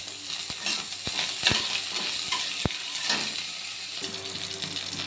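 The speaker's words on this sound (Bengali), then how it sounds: "তেল গরম হয়ে গিয়েছে, এবার জিরেটা ফোড়ন দিয়ে দিলাম আর কাঁচা লঙ্কাটা দিয়ে দিলাম, একটু আদা দিয়ে দিলাম।" Cumin seeds, green chili and ginger tossed into hot oil, crackling and sizzling steadily near at hand, with a few sharp spoon taps against the pan.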